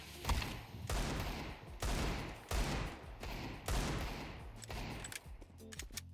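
Counter-Strike 2 gunfire in a one-versus-one match, several loud bursts of rapid shots separated by short gaps, close and dominant, with no speech.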